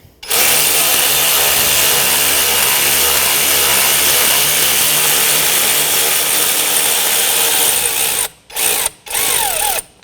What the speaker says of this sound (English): Using my 14mm socket, I'm going to use my electric ratchet now and tighten this up.